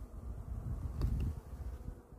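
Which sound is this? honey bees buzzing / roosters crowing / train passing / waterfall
honey bees buzzing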